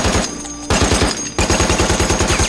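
A .30 caliber machine gun fires short bursts: loud, rapid, evenly spaced rounds that stop briefly and then start again in a second burst.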